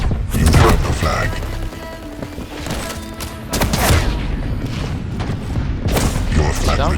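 Rapid nail gun fire in the arena shooter Quake Champions during a capture-the-flag match, a dense stream of thudding shots mixed with explosions, game announcer calls and other combat noise.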